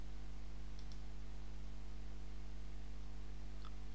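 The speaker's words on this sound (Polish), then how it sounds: "Klikamy Dodaj." A computer mouse clicks faintly a few times, with two close clicks near the start and one near the end, over a steady low electrical hum. There is no talking.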